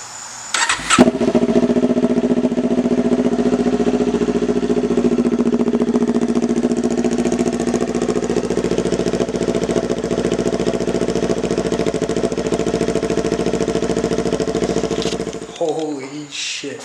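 A 2019 Kawasaki Z400 motorcycle fitted with a Leo Vince LV-Corsa exhaust fires up and settles into a loud, steady idle close by, running without pause for about fifteen seconds before cutting off.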